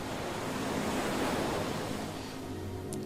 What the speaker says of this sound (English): Let yourself enjoy watching the waves rolling in and rolling out